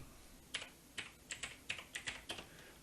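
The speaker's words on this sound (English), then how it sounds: "don't forget to type space," Rapid typing on a computer keyboard while entering fixture names in LightFactory lighting control software, with about a dozen crisp, close keystrokes in an uneven rhythm and no talking.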